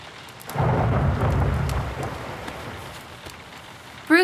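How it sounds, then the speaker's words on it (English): Heavy rain hisses steadily while a rumble of thunder rolls in near the start and fades over a few seconds, followed by a brief sharp sound at the very end. "The rain won't seem to stop."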